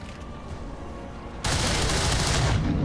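Gunfire in the video game XCOM 2: War of the Chosen erupts suddenly into a loud, sustained burst after a low ambient hum, continuing steadily to the end.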